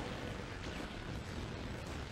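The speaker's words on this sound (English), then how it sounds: "we're going to get our Vulcan cannon out" Vulcan cannon fire in the video game Ratchet: Gladiator, a dense, continuous roar of rapid gunfire and blasts that stays loud and steady throughout, with no gaps.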